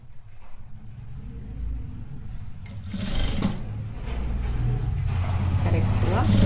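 Sewing machine stitching a seam on a halter neck blouse, a steady close mechanical whir that builds in speed, with someone talking over it.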